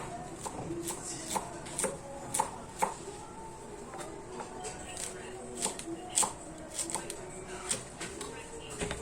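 A kitchen knife chops fresh ginger on a board with steady, close, crisp taps in an uneven rhythm, while a voice talks quietly underneath.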